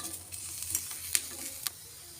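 Green chilies fry in a little oil while being stirred, giving a steady close sizzle punctuated by a few sharper scraping clicks of the spoon against the pan; no one speaks.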